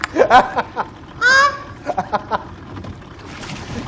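A goose honks several times in quick bursts, loud and close, with short rapid calls scattered between the louder honks over a low background rumble.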